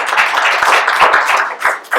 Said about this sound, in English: I'd like to have a round of applause for